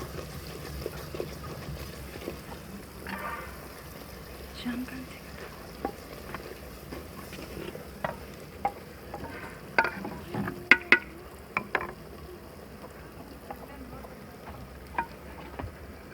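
Turmeric and red chili frying in hot oil in a handi, a soft sizzle under clinks and scrapes of stirring, with sharp ticks throughout, quiet and close.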